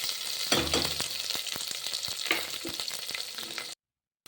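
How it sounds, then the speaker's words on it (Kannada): Onion, cumin seeds, green chilli and curry leaves sizzle steadily in hot oil, with scraping stirs and clicks of a spoon against the pan, ending in a brief silence. "ಚೆನ್ನಾಗಿ ಫ್ರೈ ಮಾಡ್ಕೊಳ್ಳೋಣ"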